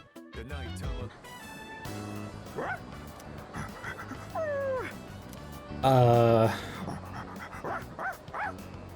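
Koromaru, the dog in the video game Persona 3 Reload, yips and whimpers amid game music and sound effects, with short pitched yelps that bend up and down over a busy backing track.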